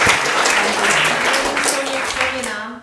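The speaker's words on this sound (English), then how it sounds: "I think we give them another round of applause." Audience applause following a staged play performance, a dense steady wash of clapping from a full room that holds for a few seconds and gradually thins, with a voice faintly underneath.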